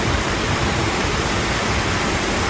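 A waterfall's water pours in a steady, dense, broadband roar, constant and loud throughout with no voices over it.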